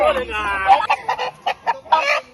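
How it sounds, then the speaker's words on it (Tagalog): Chickens at a Batangas farm resort, among them Rhode Island Reds, Saso, Australorps, native chickens and Brahmas, cluck and squawk in short bursts close by, with a rooster-like call at the start and talk mixed in. "ang mga chicken po, merong Rhode Island Red, Saso Australorp, native chickens, and Brahmans"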